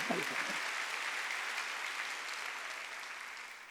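Congregation applauding during a Sunday church service, a sustained wash of clapping that opens loudly and slowly fades, no speech over it.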